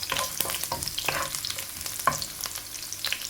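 Sliced garlic, six cloves, frying in hot coconut oil in a pan for Kerala squid masala, with a steady crackling sizzle and occasional stirring scrapes close by.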